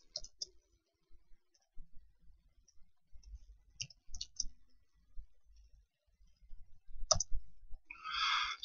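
Keys on a computer keyboard click in a few short, sparse bursts, close and faint, with quiet gaps between taps.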